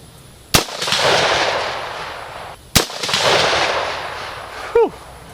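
A rifle fitted with a lightweight pencil barrel fires two sharp, loud shots a couple of seconds apart, each followed by a rolling outdoor echo, with a brief faint noise near the end.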